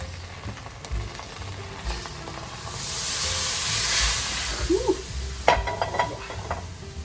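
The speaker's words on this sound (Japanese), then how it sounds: "この辛味噌の中にさっき作ったスープ入れます" Homemade soup poured into a hot pan of spicy miso paste with doubanjiang and oyster sauce, giving a broad rising sizzle and hiss that swells mid-clip and settles into stirring clatter and bubbling.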